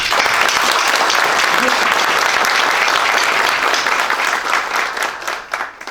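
An audience at a professional association meeting applauds in a dense, loud, sustained wave of clapping that holds steady before thinning out near the end.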